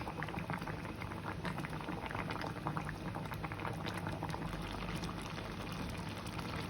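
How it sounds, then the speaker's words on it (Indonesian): Broth simmering gently in a pot over a low flame, a steady soft bubbling and popping that stays constant and fairly quiet throughout, with no talking. "airnya tinggal sedikit dan kuahnya agak kental, baru kita matikan apinya."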